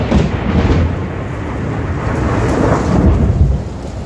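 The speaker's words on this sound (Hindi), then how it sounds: "ये नॉर्मल बारिश नहीं है, ये है ओलों की बारिश। ओले गिर रहे हैं बहुत तेजी से।" Heavy hailstorm with thunder in a Himalayan hill setting, hailstones falling fast in a loud, continuous roar of pounding and rumble close by, with no voices.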